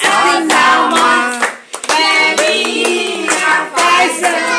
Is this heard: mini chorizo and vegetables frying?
no